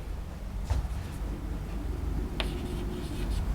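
Marker or chalk strokes from a teacher writing on a board during a maths lecture, a few short scratchy bursts over a steady low room hum, with no talking.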